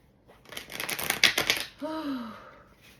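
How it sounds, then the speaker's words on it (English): A deck of tarot cards is riffled and shuffled up close in a quick flurry of crisp paper flutters, followed by a short vocal sound. "Before I continue to shuffle, I'm going to cleanse myself."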